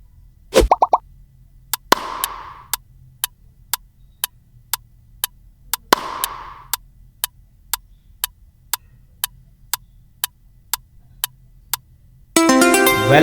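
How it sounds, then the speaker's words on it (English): A ball bounces in a quick run of sharp hollow plops, then a second bounce sequence repeats the pattern, followed by evenly spaced clicking ticks that continue steadily in a quiet setting. "A bouncing ball can mimic soft."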